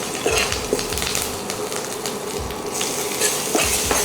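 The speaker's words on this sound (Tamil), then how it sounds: "இப்போது பச்சை மிளகா போட்டுடலாம்." Chopped green chilies sizzle in hot oil while a spoon scrapes and stirs them in a pan for sago upma. Steady frying hiss sits under repeated knocks and scraping of metal, close up, with no talking.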